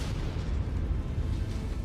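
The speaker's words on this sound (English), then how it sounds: "Artillery's on me." Artillery shells explode in the mech combat game MechWarrior 5, a continuous low, heavy rumble of blasts rolling together, loud and close with no talk.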